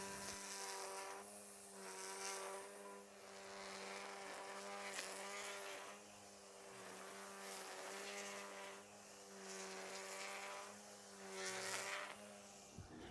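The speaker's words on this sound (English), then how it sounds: "the weed eater is just really, really fast" A battery-powered electric weed eater whines steadily as it trims grass beside gravel, a continuous high buzz with gentle swells in pitch and loudness and no talking.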